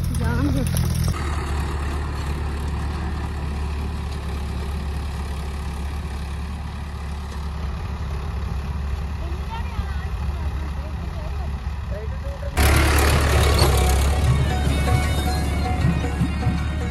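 A tractor engine runs in farm fields in an Indian village, a steady low drone throughout, a little louder near the end.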